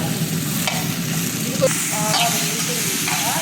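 Ridge gourd frying and being stirred in hot oil for a chutney, a close sizzle with scraping spoon strokes against the pan, steady and fairly loud.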